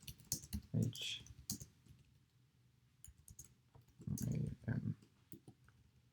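Keys clack on a computer keyboard in short bursts while a person talks over them, the typing close and moderately loud between phrases.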